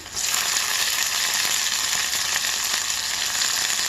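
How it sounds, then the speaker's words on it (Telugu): Green chillies and broad beans frying in a pan for chikkudukaya curry, giving a loud, continuous hissing sizzle close by, with faint stirring and no talk. "వేసుకున్నాక పచ్చిమిర్చి, పెద్దలకాయలు బాగా వేగాలి"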